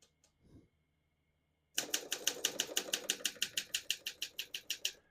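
After a brief quiet, rapid mechanical keystrokes clack steadily on a 1953 Olympia SM3 portable manual typewriter, about twenty crisp strikes in quick succession, close and clear.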